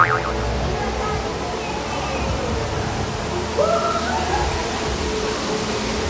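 Steady rushing wash of falling water from an indoor artificial waterfall in a dim space at Jeddah City Walk, continuous and enveloping, with a brief whistling or voice-like tone partway through.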